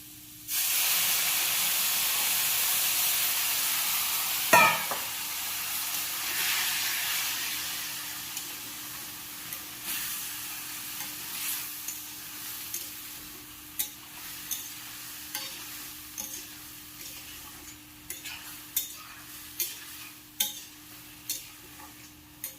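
Water poured into tomatoes frying for chana masala bursts into a loud hissing sizzle, then settles into a steady fry with repeated scraping stirs and clicks of a spoon against the pan.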